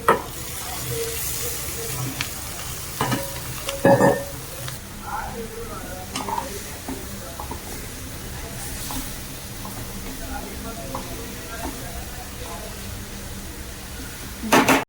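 Small dried shrimp (jawla) frying and being stirred in a spice masala in a pan, a steady close sizzle broken by a few louder clatters of the spoon against the pan, with no talk.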